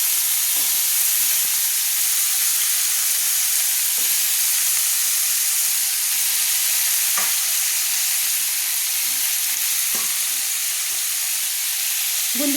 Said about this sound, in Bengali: একটা একটা করে চিকেনগুলো কিন্তু ভেজে নিতে হবে